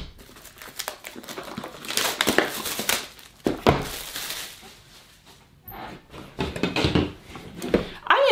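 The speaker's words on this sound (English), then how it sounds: "And I cut off the cellophane packaging." Cellophane wrapping cut off a beauty subscription box and crumpled by hand, loud close crinkling in bursts with brief pauses between handfuls.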